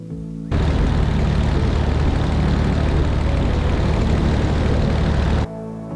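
The cabin of a light aircraft on final approach during a crosswind landing fills with a loud, steady propeller-engine drone that cuts in abruptly and holds constant for about five seconds before dropping away.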